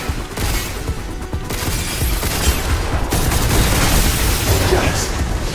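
Rapid video-game gunfire rattles continuously against an armored robot enemy, bullets pinging and bouncing off its hull in a dense, loud barrage that grows fuller midway and keeps going to the end.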